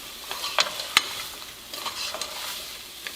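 Scallions and onion cook in a pan for Vietnamese lemongrass chicken, with a soft steady sizzle and a few sharp utensil clicks and scrapes as they are stirred.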